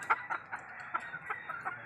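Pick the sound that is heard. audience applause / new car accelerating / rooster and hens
rooster and hens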